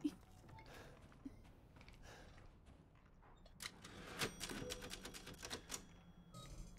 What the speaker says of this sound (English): Oh, RE and the save system. Typewriters are cool, though.